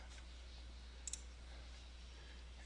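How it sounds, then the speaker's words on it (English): A computer mouse click while picking a property on an online map, heard as a quick faint double click alone over a steady low hum in a quiet room. "Go ahead and click on it."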